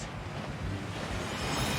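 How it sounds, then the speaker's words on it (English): Rushing waterfall inside the Gringotts vaults in a Harry Potter video game, a steady broadband roar of falling water filling the whole stretch without pause. "That waterfall washes away all enchantments."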